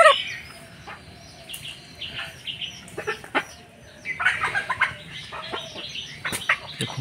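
Desi village chickens at a rural market cluck and squawk in a steady, busy chorus, with sharper bursts of calls rising and falling close by and no talk.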